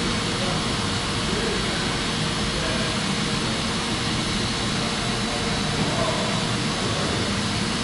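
A 1998 Toyota Corolla engine with a check engine light on runs steadily close by, a continuous broad rumble and hiss with no clear breaks.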